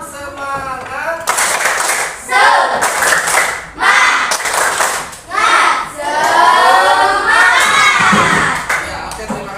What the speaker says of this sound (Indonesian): Coba kita tepuk semangat aja.